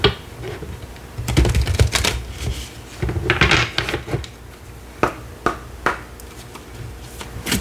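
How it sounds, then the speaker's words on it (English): Oracle cards from a Moonology deck being drawn and shuffled at close range, a run of soft crisp card flicks and slides, dense at first and then settling into a few separate snaps and taps. "let me just get you a Moonology card"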